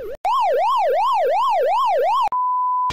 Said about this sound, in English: Some people find these sounds nostalgic